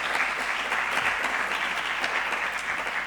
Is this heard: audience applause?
yes